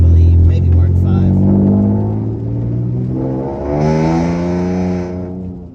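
A Volkswagen GTI Mk6 with an APR stage 2 tune and 2-liter turbo engine accelerates on a slick wet road, its engine note climbing through rising tones nearby, with someone talking over it.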